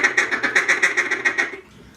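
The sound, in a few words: duck call imitating a mallard chuckle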